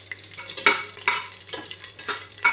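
Whole cloves and peppercorns, along with other whole spices, crackle and sizzle in hot oil in a biryani pot, with several sharp bursts of spitting over a steady low hiss, close and fairly loud.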